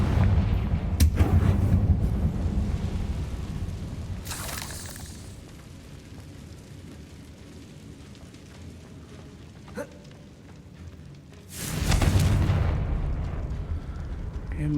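Spell explosions in the Hogwarts Legacy video game: three heavy booms, one near the start, one around four seconds and a louder one near twelve seconds, with quieter ambience between.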